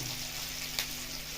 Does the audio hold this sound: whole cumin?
yes